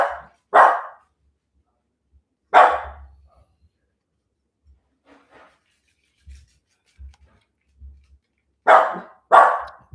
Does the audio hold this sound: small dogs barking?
yes